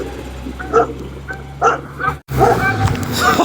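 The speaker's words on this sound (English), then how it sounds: "past the barking dog" A dog on an Italian pilgrimage trail along the Via di Francesco near Trevi barks and yips repeatedly in short bursts, fairly close, with a low background hum and a brief gap midway.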